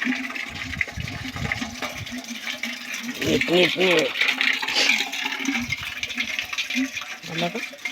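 Water from a borewell pump gushes steadily into a metal pot with a rushing, splashing sound while someone talks over it.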